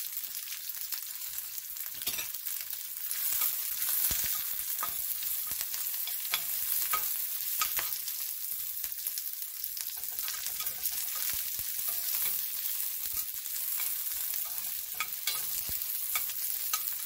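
Red chillies, curry leaves, shallots and garlic sauté in a pan for a horse gram rasam, giving a steady, close, bright frying sizzle with faint stirring scrapes throughout, no voices.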